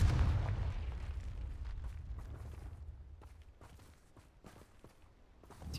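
A Confringo blasting spell explodes in the Hogwarts Legacy video game as a deep, rumbling boom that fades slowly, followed by faint footsteps and small thuds.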